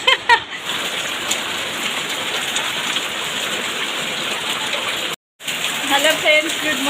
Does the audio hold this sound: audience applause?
no